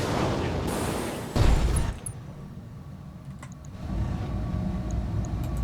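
Mech weapons fire in BattleTech, a dense roar of shots with a heavy boom near the middle, then a quieter stretch before the rumble of fire builds again.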